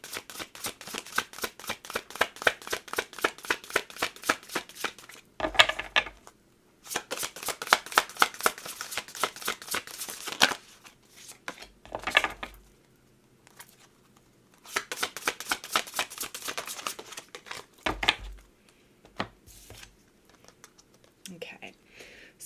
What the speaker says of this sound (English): let me get a couple more oracle cards to close this out